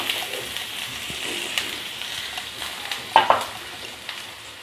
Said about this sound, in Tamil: சீரகம் பொரியவும் கால் கப் சின்ன வெங்காயம் பொடியாக கட் பண்ணி சேர்த்துக்கலாம்.